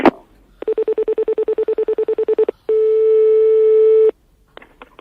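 Telephone line after hanging up: a click, then a fast series of short repeated beeps, followed by a single steady continuous tone lasting over a second, loud and clean, with faint tones trailing at the end.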